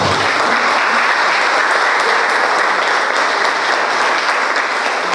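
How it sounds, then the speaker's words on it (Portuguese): Loud, sustained applause from an audience at a Catholic youth group gathering fills the whole clip, a dense, even patter of many hands clapping without pause. "Uma salva de palmas para ele."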